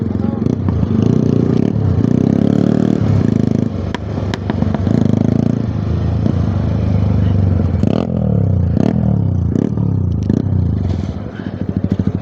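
A motorcycle's exhaust pops and crackles while it is ridden, with sharp bursts of bangs cutting over a steady, loud engine drone and road rumble.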